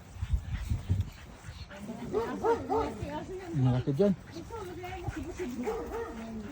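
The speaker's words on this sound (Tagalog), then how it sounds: "mahina ang siya ng mga aso" Dogs yip and bark in an excited, whining flurry, close by in a park, while a person talks over them.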